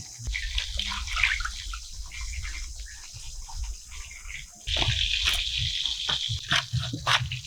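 Raw meat pieces washed in water for a family picnic cookout, with splashing and running water sloshing continuously, louder and more gushing in the second half, no talk.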